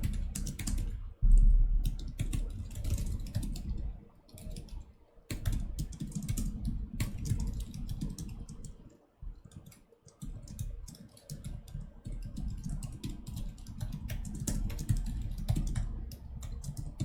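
Fingers type on a computer keyboard while solving a coding problem, producing a close, steady patter of rapid key clicks with short pauses between bursts.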